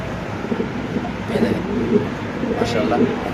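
Pigeons at a pigeon farm coo in soft, repeated throaty calls close by, several coos rising over the steady murmur of someone talking.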